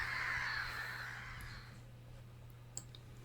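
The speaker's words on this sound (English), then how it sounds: "the noise the birds make has been dubbed in afterwards" A crow gives a harsh caw up close that fades out, followed by quieter stillness with a single faint click.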